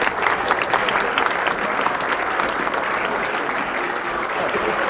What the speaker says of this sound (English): A big round of applause for all of my helpers